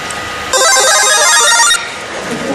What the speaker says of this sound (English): a sound effect for selling